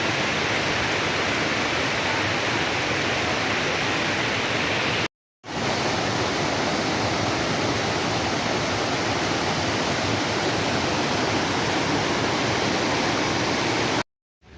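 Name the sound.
waterfall at a landscaped natural stream in Vietnam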